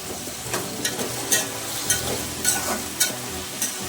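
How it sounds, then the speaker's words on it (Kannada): Two medium-sized tomatoes fry in a pan for vangibath gojju, a steady sizzle broken by regular spatula scrapes roughly every half second, close and moderately loud with no voices. "2 ನಿಮಿಷ ಟೊಮೆಟೊ ಫ್ರೈ ಮಾಡಿ"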